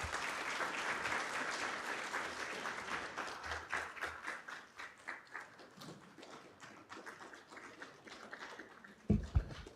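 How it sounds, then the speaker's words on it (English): Applause from an audience at a university innovation week and industry summit, steady dense clapping that thins into scattered claps, with a few louder close claps and thumps near the end. "Let us give him a round of applause, a better round of applause, please"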